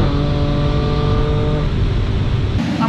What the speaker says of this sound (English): That wheel hop is so gnarly.